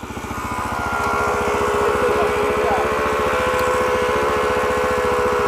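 Engine of a DRZ400SM dual-sport motorcycle with a sticking throttle running steadily at a fast, even idle-like putter, loud and close, with a faint whine above.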